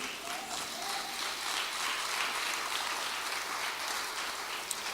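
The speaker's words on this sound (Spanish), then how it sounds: "Dele otro fuerte aplauso al Señor." A church congregation applauds together during a sermon, a fairly soft, even patter of many hands that holds steady for a few seconds without any speech on top.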